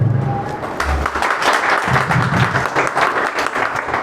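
An audience applauds at a company training seminar, a steady dense patter of many hands clapping close by that carries on without pause.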